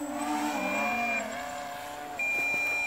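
An MJX Bugs 3 quadcopter's brushless motors whine loudly up close, the pitch sliding and wavering as the drone hovers and shifts, with a brief high electronic tone joining near the end.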